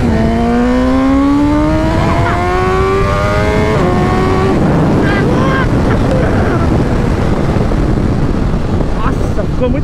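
A 2021 BMW S1000RR converted into a drag bike accelerates hard, its engine note climbing through a few quick gear changes before being swamped by heavy wind roar as it speeds away.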